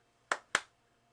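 Two sharp hand claps from a character in a video game cutscene, close and crisp, spaced about a quarter second apart against near silence.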